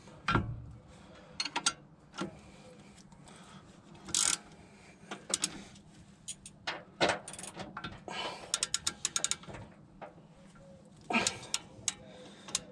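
A ratchet wrench with an 18mm socket works bolts on a Volvo M56 manual gearbox in a garage: repeated quick clicking bursts and metallic ticks, close and moderately loud, with brief pauses between strokes and no talk.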